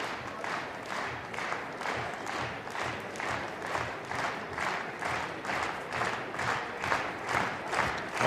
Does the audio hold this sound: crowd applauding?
yes